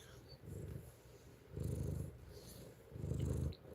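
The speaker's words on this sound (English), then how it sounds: "You hear that purring?" A cat purrs close by in steady low rumbling cycles, swelling louder with each breath over a soft background hum.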